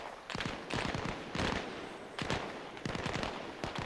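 Dense rattling gunfire from an Arma Reforger firefight, with bursts of automatic fire and sharp shots crowding one another. The bursts come in several loud waves and run nearly nonstop across the whole stretch.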